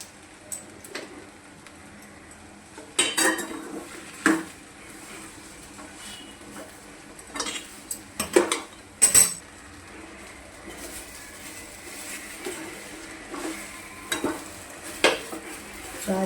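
A spoon stirs and mixes sugar-lemon powder into the oil tempering of vegetable muthiya in a pan, giving scattered scraping clinks and soft sizzling over a faint background, with bursts of louder stirring.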